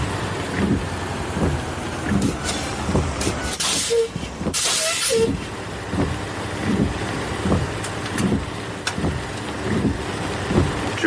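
Heavy rain pours steadily in a horror audio drama, a dense continuous hiss with a few louder bursts and distant rumbling, no voices over it.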